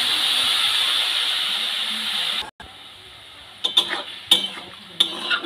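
Drumstick flowers, potato and eggplant are stirred in a pan after a little water is added, a steady hiss and sizzle that cuts off, followed by a few scraping clinks of the spoon against the pan.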